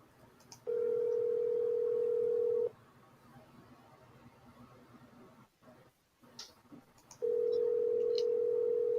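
A ringback tone on an outgoing phone call, heard through the handset: a steady ringing burst about two seconds long, a pause with faint background noise, then the next ring starting near the end.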